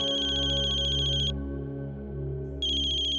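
A phone rings with a bright electronic trill in two bursts separated by a short pause, over a low steady background hum.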